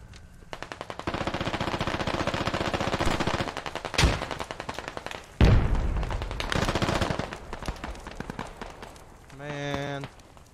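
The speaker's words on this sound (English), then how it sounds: "These guys keep shooting me." Dense, rapid gunfire from the military shooter game Squad, with sustained automatic bursts and sharper single shots cracking close by, while a voice talks over the battle noise.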